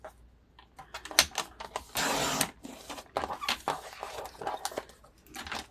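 Stitching through a junk journal page, a rapid run of sharp clicks and brief rattling bursts with a longer steady whir near the middle, close and fairly quiet.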